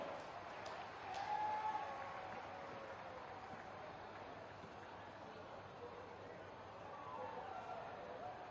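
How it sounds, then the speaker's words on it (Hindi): Faint, distant applause from an audience at a public event in Aligarh, a low continuous wash of clapping heard from afar. "अपनी तालियों से उनसे आशीर्वाद दें"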